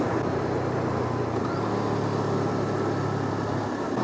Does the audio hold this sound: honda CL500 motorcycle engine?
yes